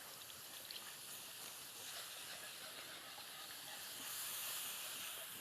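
Boxed broth pours steadily into a hot pan of onion and thyme while being whisked, giving a continuous close sizzling hiss that swells slightly toward the end.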